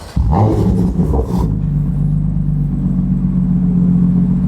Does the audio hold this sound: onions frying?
no